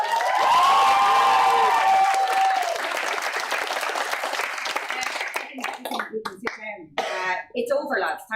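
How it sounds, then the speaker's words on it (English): An audience at a university election leadership debate applauds the moderator, the clapping starting full and thinning into scattered claps over a few seconds, with a voice heard near the start. "A big round of applause for our moderator"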